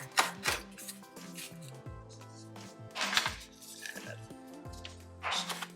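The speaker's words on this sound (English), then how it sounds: "So we're just gonna get this lightly chopped." Light chopping of a fresh home-harvested lemongrass stalk with a knife on a cutting board: a handful of soft, irregular thuds heard up close and fairly quiet, with no speech.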